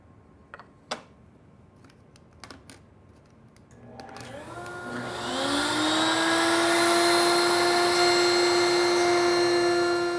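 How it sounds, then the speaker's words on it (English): A router spins up and bites into wood while cutting a double dovetail joint, a rising whine that settles into a loud steady drone after a few sharp clicks. "now I'll cut about another inch deeper than that to see if we're still on line"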